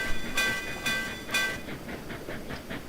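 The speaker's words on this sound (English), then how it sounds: "Animated bell noises." A train bell in the video game Trainz clangs in several bright strokes at first, then softer rhythmic chuffing continues on its own.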